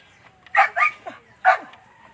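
Several pet dogs bark in a quick cluster of sharp yips and barks, close and fairly loud, with short pauses between bursts.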